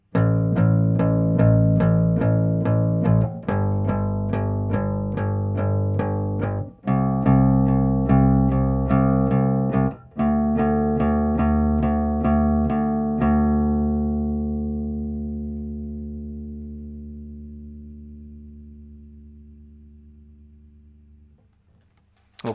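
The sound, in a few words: bass guitar playing a simple bass line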